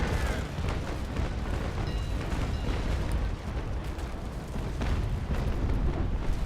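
Booming cannon broadside from a sailing warship in the Naval Action Legends naval battle game, fired with 6-pounder long cannons, as a dense continuous roar of overlapping blasts and rumble throughout.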